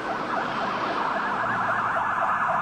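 Fresno fire, police and ambulance emergency vehicles wail with a steady rising-and-falling siren, loud and continuous over traffic noise, no talking.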